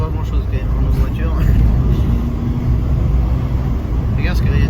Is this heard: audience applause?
no